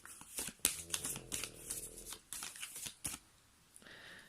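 Tarot cards drawn and shuffled close by, a string of quick crisp riffles and flicks in short bursts, fairly quiet and with no talking.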